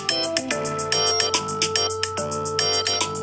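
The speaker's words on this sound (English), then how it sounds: "I will select by the seaside. This is the ringtone." A bright, plucked-sounding iPhone ringtone, By the Seaside, repeats in a steady looping pattern, loud and close, with no talking.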